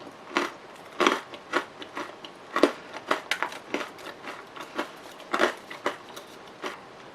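Crisp, repeated bites and crunches of a curry-flavored Japanese rice cracker, close and sharp, coming in irregular bursts over a quiet background.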